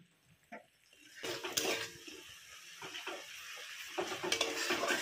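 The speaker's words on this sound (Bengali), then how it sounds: "অল্প একটু নারকেলের দুধ দিয়ে কষিয়ে নিচ্ছি" Prawn curry masala sautés with a little coconut milk in a pan, a soft steady sizzle broken by repeated scraping and stirring knocks of a spatula against the metal.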